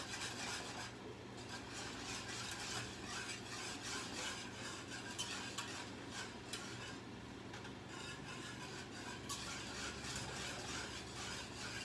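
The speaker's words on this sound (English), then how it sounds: "All right, so now let me stir my sauce." Shrimp Alfredo sauce with gnocchi stirred in a pan, a steady continuous scraping and rubbing of the utensil against the pan bottom, close and even throughout, with no talking.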